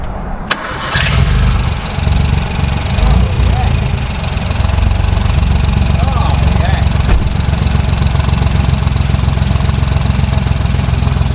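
A Ford 1.0 EcoBoost engine with a failed wet belt and head gasket cranks briefly, catches on the first turn of the key, then settles into a loud, steady running drone that carries on to the end.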